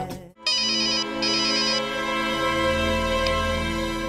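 A telephone rings with a steady electronic trill that starts abruptly after a brief gap, loud and close, over a sustained musical background.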